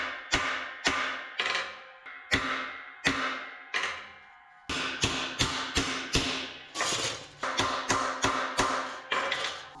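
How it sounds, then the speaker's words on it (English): Hammer striking the back side of a welded metal panel on a 1963 Loadstar truck, a series of loud, ringing metallic blows, some single and some in quick runs, each decaying with a bright ring. "we're gonna put it down on this and hammer it on the back side"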